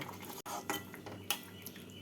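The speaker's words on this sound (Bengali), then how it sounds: "আর দেবো হাফ স্পুন ঘি গরম মশলা আর ঘি দিয়ে নাড়াচাড়া করে গ্যাসটাকে বন্ধ করে দেব" A metal spoon stirs fried chhana curry (bhaja chhanar dalna) with ghee and garam masala in a pan, giving close, repeated scraping and clinking strokes with brief pauses between them.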